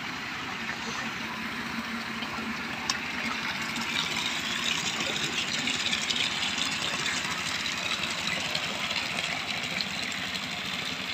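A tractor engine runs at a steady idle and gives a constant, mid-to-low mechanical rumble with faint rattling vibration. It sounds close and fairly even throughout, with no speech.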